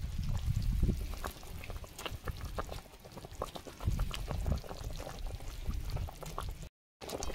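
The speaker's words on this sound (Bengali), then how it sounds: "দেখুন ঝোল ফুটতে শুরু করেছে।" Curry gravy with taro in a pot starts to boil, giving a continuous bubbling, sputtering sound with sharp pops, close and fairly loud throughout.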